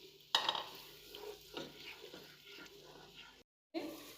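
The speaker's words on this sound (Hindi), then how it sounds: "अब इसके अंदर मैं प्याज डालूंगी और इसको भी हल्का सा फ्राई कर लूँगी" Chopped onions frying in a pan at home, a soft sizzle broken by stirring scrapes and a sharp clatter near the start, then a brief dead gap before the sizzle returns.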